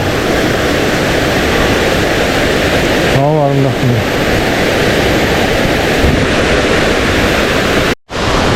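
A steady, close roar of falling water pours without pause from Dokki waterfall (Silpok) in the Gariwangsan forest, while someone speaks briefly over it partway through.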